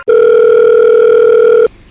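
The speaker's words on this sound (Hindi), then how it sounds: "अरे बिटिया का फोन।" A steady electronic telephone tone holds for about a second and a half, loud and close, then cuts off abruptly.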